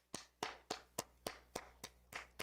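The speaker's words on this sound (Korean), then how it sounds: "내가 박수 쳐줄게" Nine sharp hand claps in a steady, even rhythm, close and clear with nothing else around them.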